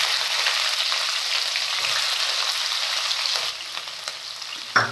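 Steady, loud sizzling of a spice tempering in hot oil, with sliced green chillies added, a continuous crackling hiss that eases slightly near the end with a brief clatter.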